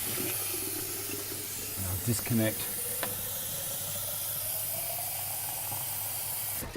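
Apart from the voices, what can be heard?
water poured into a running Triton sharpening machine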